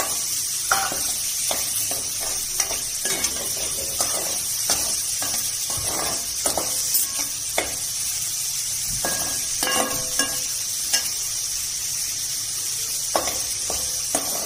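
Finely chopped onions sizzle steadily in a hot pan while being sautéed for a bhindi masala gravy, with a constant bright hiss broken by frequent close clicks and scrapes from stirring.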